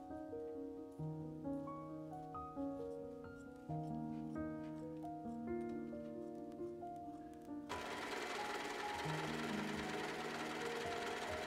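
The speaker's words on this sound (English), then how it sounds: "everything is cut out, everything is serged, apart from the top edge" A serger sewing machine finishing the cut edges of skirt fabric for a bustle era costume, its motor humming steadily and close, with a brief change in pitch and then a denser, noisier whir.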